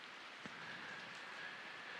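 Steady rain falling, a constant soft hiss of drops with no talk, fairly faint and even throughout.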